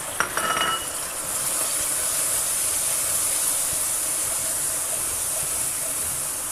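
Indomie noodles frying in a pan with chili and spices, a loud steady sizzle and hiss with brief clatter of stirring at the start, continuing without pause.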